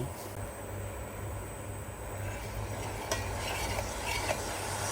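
Granulated sugar is poured into a pot of boiling water and stirred, with soft scraping and clinking under a faint hiss.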